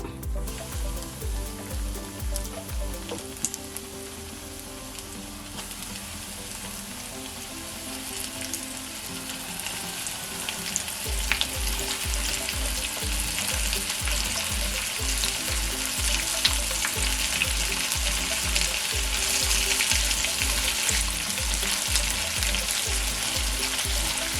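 Anchovies (netholi) coated with rava deep-fry in hot oil, a continuous loud sizzle and crackle throughout, with a rhythmic clatter of stirring at the start and again through the second half.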